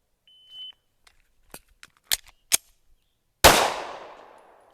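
A pistol in a concealed-carry reactive reload drill: a brief timer beep, several small clicks and clacks of the reload, then one sharp, loud gunshot with a fading ring-out.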